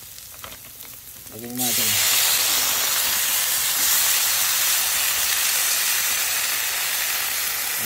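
Adobo flakes hit a pan of frying garlic and onion, and a loud hissing sizzle bursts in and holds steady. A brief spoken phrase comes just before.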